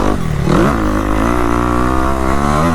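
A motocross motorcycle accelerates on a sandy track, its loud, close engine climbing steadily in pitch as the throttle stays open, a continuous buzzing roar.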